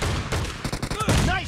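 Gunfire from a team deathmatch in the mobile shooter BGMI: a rapid burst of several sharp shots in quick succession, loud and close, with game voice callouts and tonal interface chimes mixed in.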